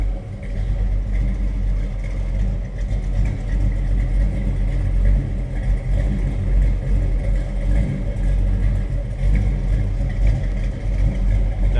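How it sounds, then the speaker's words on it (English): A 1938 Chevrolet Master Deluxe two-door sedan street rod running with a throaty exhaust, a steady low rumble close by that holds even throughout with slight fluctuations, no talk over it. "Nice throaty exhaust note, a little rumble."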